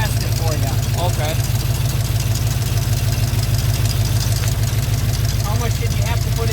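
A 1957 car engine idles on choke in cool weather with a steady, loud, even low rumble throughout, while people talk over it.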